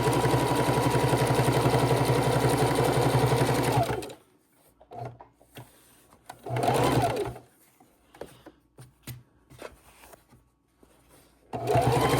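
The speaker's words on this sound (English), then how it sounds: "We're going to start sewing it right where my seams are." A sewing machine runs fast and steady to stitch down a pressed fabric edge, then stops and gives a few short bursts before a final run resumes at the end, all close with no talking.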